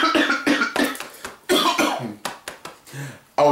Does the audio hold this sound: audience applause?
no